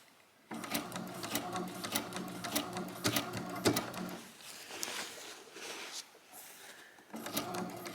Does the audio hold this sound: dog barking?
no